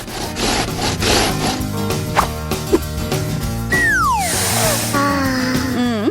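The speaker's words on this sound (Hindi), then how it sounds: "इसे आधे में काटती हूँ कि खाने में आसान हो" Food being cut in half on a plate during a food challenge, a rough rhythmic sawing and rasping of a knife close up, followed by squeaky sliding tones.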